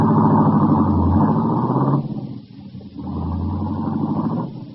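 A car engine drones steadily amid late-night midtown city traffic, a loud close rumble that dips briefly and then resumes, with no voices.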